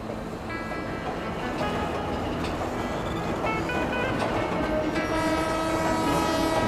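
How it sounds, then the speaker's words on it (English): East Coast passenger train departing a station, its horn sounding in long sustained tones over the steady rumble and clatter of the rolling carriages, loud and continuous. "He's clapping his horn, he must know it's my last train"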